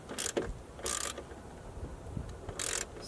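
A ratchet tightens mirror bolts on a 1999-2007 Ford Super Duty during a mirror swap, giving three short bursts of close, crisp clicking with quiet gaps between them.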